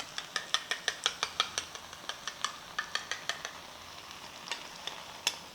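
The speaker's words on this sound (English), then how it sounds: "Mix it nicely." A spoon scraping and stirring cheese pasta in a pan, a steady rhythm of crisp metallic clinks over a low sizzle, close and fairly quiet, with a short pause before the strokes resume.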